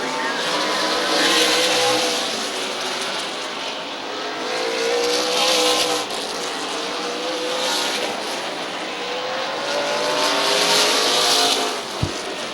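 Stock cars in a 50-lap Super Cup race on the Midvale oval, running nose to tail down the back straightaway, a continuous loud engine roar that swells and fades as they pass, with no commentary over it.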